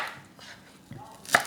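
A knife chopping leek, celery and broccoli stems into large pieces on a cutting board, with a couple of soft cuts and then one sharp, close knock against the board.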